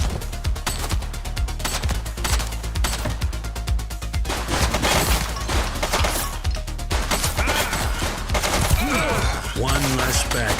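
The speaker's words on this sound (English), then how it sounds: "He's shooting!" Sustained gunfire in the police game The Precinct: rapid automatic bursts crackle continuously, loud and close, with shots overlapping into a dense fusillade and shouting voices mixed in.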